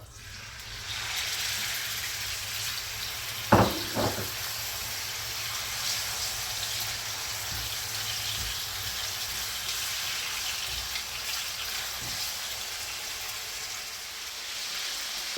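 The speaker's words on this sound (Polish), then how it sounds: "Piersi już się smażą." A constant broad sizzle of chicken breasts frying in a pan, with a brief clatter of a utensil partway through.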